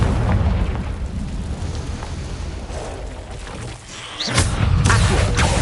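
A Confringo spell explosion in the Hogwarts video game erupts with a loud, rumbling blast, then crackling debris. After a brief dip the sound swells into a second heavy burst near the end.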